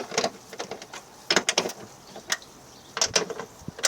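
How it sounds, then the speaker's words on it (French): A ratchet wrench clicks in short bursts while undoing the three nuts holding a car's rear wiper motor, with quiet pauses between the runs of metallic ticking. "Ensuite, je vais donc dévisser ici les trois écrous."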